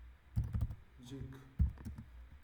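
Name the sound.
typing a message on a computer keyboard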